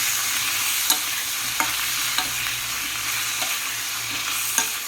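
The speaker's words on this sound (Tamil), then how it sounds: "நம்ம கத்திரிக்காயை ஃபுல்லாக இதை நல்லா திருப்பி விட்டு வதங்க விடணும்." Eggplant sautés in a pan, a continuous close sizzle punctuated by regular light spatula taps every half second or so as it is turned, no voices.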